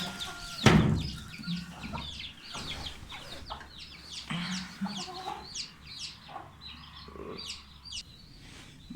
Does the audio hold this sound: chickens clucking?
yes